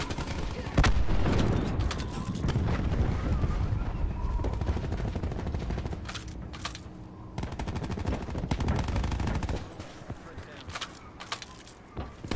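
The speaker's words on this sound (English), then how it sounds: "Cluster grenade going out." A cluster grenade goes off in Call of Duty Black Ops 4 amid a dense, continuous run of loud gunfire and blasts, with players talking over the chaos before it thins out near the end.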